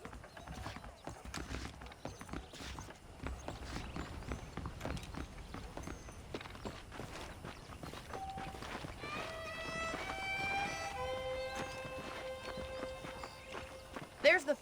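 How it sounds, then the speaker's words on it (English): Horse hooves clip-clop steadily in the Western video game Red Dead Redemption, a continuous walking rhythm under a voice, with musical tones rising in later on. "The horses are saddled up over here."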